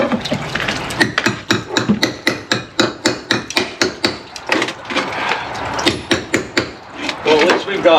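Repeated hammer blows striking old log-cabin wood in a steady, quick rhythm, sharp and close, with a few irregular gaps between strikes.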